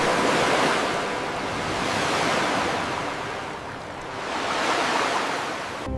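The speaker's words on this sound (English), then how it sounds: "The wind tore at their faces, waves crashed at their feet" Ocean waves crash and wash ashore in broad, hissing surges, with about three swells rising and falling in loudness over a constant roar of surf.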